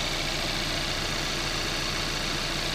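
A 2014 Kia Rio GDI with a 1.6-liter engine idles steadily, a smooth and even hum heard up close under an open hood, with no talking.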